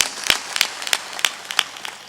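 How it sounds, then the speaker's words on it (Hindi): Scattered hand claps from an audience at a spiritual discourse gathering in Betul, a handful of sharp separate claps in an uneven rhythm rather than full, dense applause. "ताली बजाकर अभिनंदन कीजिए"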